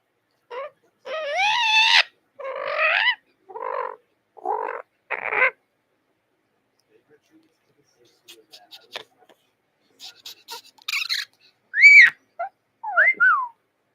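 An Amazon parrot gives loud, close squawks and whistles in bursts, then falls quiet. It returns with sharp rising whistles and clicks, with a raw, screechy edge.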